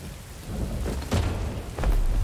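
Rain patters steadily while low thunder rumbles and cracks twice, growing louder toward the end, in the video game Star Wars Jedi: Fallen Order.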